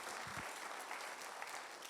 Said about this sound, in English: Let's give a warm, very, very warm